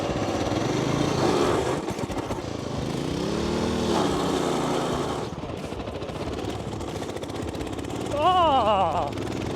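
A racing lawnmower's small engine runs and revs unevenly, rising and falling in pitch, with a person speaking briefly over the noise.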